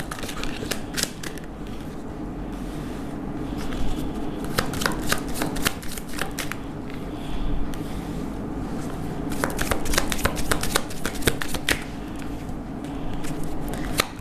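A deck of tarot cards is shuffled close up, with bursts of crisp riffling and flapping card edges that come and go across the stretch and grow dense in the middle and near the end.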